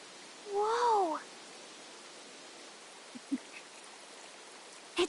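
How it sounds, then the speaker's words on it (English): Running water of a natural spring in an open space in the fantasy role-playing game Metaphor: ReFantazio makes a faint, steady hiss under a brief vocal sound and a few soft taps. "Running water nearby. Sounds like an open space. Could be a natural spring of some kind."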